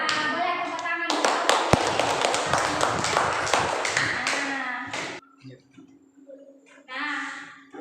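Schoolchildren clap together in a classroom, a dense, loud burst of many small hands lasting about four seconds before stopping abruptly, followed by a few stray taps and children's chatter.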